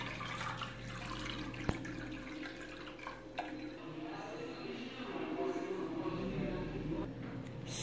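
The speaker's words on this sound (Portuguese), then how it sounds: "Vou adicionar 1 litro de água." A steady, continuous splash of one litre of water poured into a pasta baking dish, running for several seconds at a moderate, fairly close level with faint background hum.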